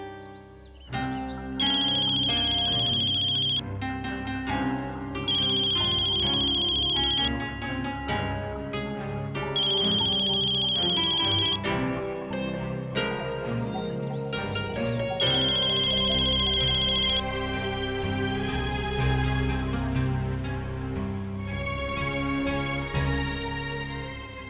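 A phone ringtone plays repeatedly in a steady melodic pattern with short pauses between rings, clear and uninterrupted with no talking.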